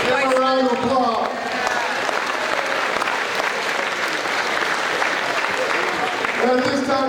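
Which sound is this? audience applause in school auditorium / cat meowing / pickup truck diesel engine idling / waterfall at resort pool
audience applause in school auditorium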